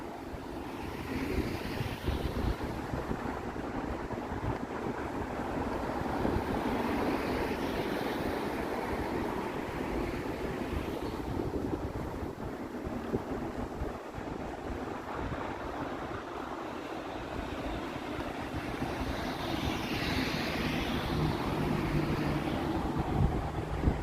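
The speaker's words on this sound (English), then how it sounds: "Like a wind tunnel right here." Strong wind gusting along a downtown Toronto street, a steady broad rushing roar with buffeting on the microphone, loud and continuous throughout with no talk.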